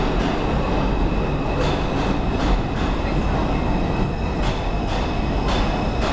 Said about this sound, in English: R142 2 train arrives at Atlantic Avenue.